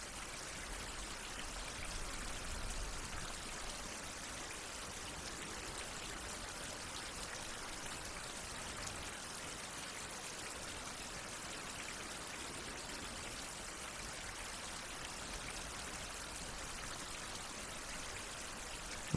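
Light drizzle in a survival game, a steady soft hiss of falling rain spread evenly across the whole stretch, faint and continuous with no voices over it.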